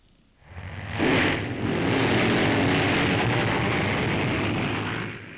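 Motorcycle engines roar up together at a starting line and hold at a steady, throaty rumble, close by and sustained.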